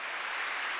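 A church congregation applauding during a Sunday morning service, a dense, steady wash of many hands clapping together with no gaps.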